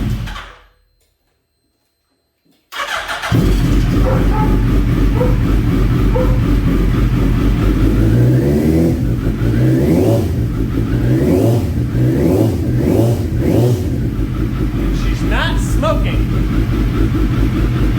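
A first-generation Suzuki Hayabusa motorcycle with a freshly replaced piston starts up after a brief silence, then idles loudly up close with several rising and falling revs, while people talk over it.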